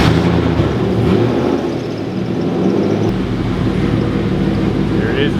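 A custom ute drives under its own power, a steady low engine and drivetrain rumble that stays loud and constant throughout, with faint road noise on top.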